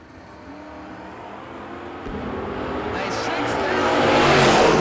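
A Chevrolet Camaro drag racing car at a no-box drag race event, its engine noise rising steadily in loudness as it launches and pulls away down the strip.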